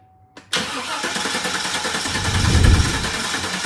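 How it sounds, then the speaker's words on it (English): A GM car engine cranks briefly then catches and starts, settling into a steady loud running drone with a swell in low rumble partway through, no talk. "we crank the engine"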